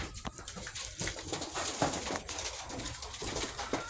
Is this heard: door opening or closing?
no